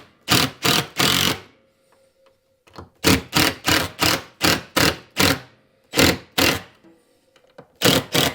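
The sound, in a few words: screw gun tightening screws into a wall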